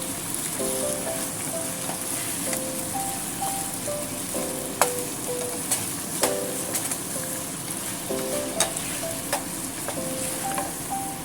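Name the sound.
stir-frying broccoli and tofu with oyster sauce and starch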